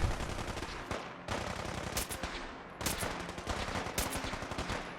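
Automatic gunfire in Fallout 4 during a fight with Gunners, rapid bursts of shots separated by brief pauses, fairly faint.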